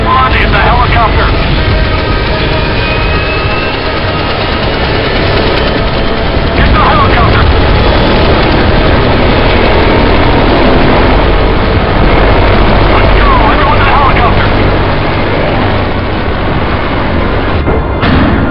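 A helicopter in the Left 4 Dead 2 Parish finale gives off a continuous loud rotor and engine drone that fills the scene, mixed with gunfire and game noise, while character voices talk intermittently.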